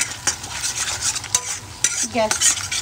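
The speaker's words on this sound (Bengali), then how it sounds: "গ্যাসটা আমি হাই ফ্লেমে দিয়ে আমি ভেজে নেব। ডিমগুলো আমি ভালো করে ভেজে নেব।" Two beaten eggs seasoned with pepper and salt fry in a pan over a high gas flame, a loud close sizzle with busy stirring and scraping of a utensil against the pan.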